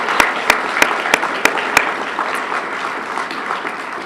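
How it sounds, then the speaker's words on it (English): A sustained burst of audience applause at a media department banquet, many hands clapping together with a few sharp, louder claps near the start before settling into steady clapping. "So a round of applause to all of the students."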